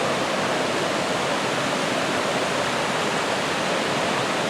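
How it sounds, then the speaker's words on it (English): A steady, dense roar of rushing water from a waterfall in Umpqua National Forest, loud and unbroken throughout, with no voices or other sounds. "with the noise from the waterfall in the background, dialogue would be difficult"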